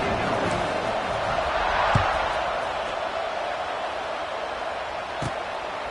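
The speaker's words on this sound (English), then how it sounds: "this crowd is buzzing after that last score" A college football stadium crowd keeps up a broad, loud roar and murmur, steady across the span, with a couple of brief thuds standing out from the wash of noise.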